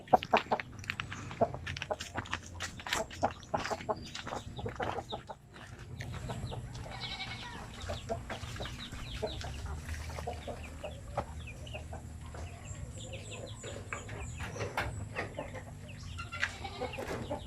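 Native Basilan and Zampin chickens released into a range area cluck and call repeatedly, close and fairly quiet, with scattered bird sounds and soft rustling around them.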